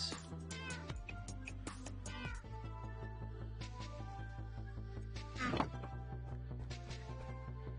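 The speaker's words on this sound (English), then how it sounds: "If you think 5 cats is annoying," Several video game cats meow repeatedly and overlap one another, some calls drawn out and wailing, over a looping musical background with occasional thunks.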